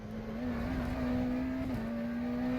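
McLaren Senna GTR race car at Sebring in rFactor 2, a steady, fairly quiet engine drone holding a nearly constant pitch with a slight wobble midway, heard alone.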